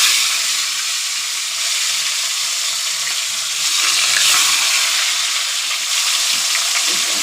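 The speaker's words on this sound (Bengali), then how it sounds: "আস্তে আস্তে ভাজা হোক" Rohu fish frying slowly in a pan for a thin curry, with a bright, steady hiss of hot oil that swells slightly midway, close and unbroken, no voices.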